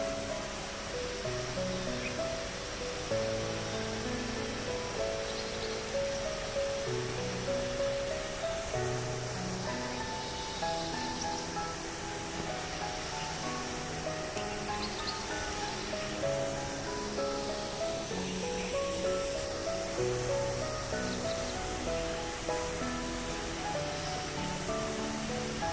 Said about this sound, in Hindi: चलिए आपको एक ब्यूटीफुल व्यू दिखाते हैं, ब्यूटीफुल झरना दिखाते हैं।